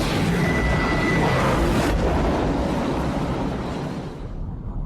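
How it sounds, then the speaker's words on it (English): A Stargate activating in a Stargate roleplaying game as its wormhole forms: a loud, sustained roaring whoosh like a rushing explosion that holds steady, then fades at the tail. "just in time to see the last chevron engage and the Stargate activate"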